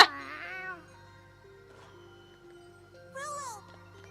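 Rolo, a cat in the video game Tales of Xillia 2, gives two clear, drawn-out meows, the first at the start and a higher, more strained one near the end, over quiet game background sound.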